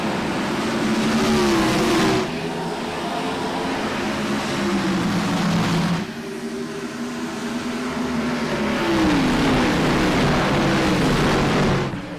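IROC race cars on throttle at a green flag restart at Phoenix, a loud dense engine roar with rising revs and gear changes in two or three surges, near and continuous with no talking.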